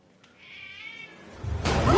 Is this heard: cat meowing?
yes